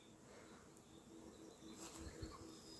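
A bee buzzes around acacia blossoms, a faint steady drone close by, with no talk.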